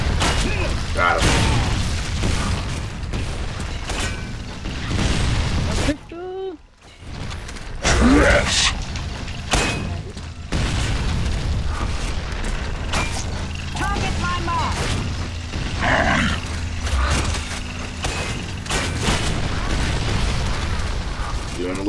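Sustained gunfire in the video game Gears of War 3 rattles almost continuously with booming bursts, a brief lull near the middle, and excited talk over the top.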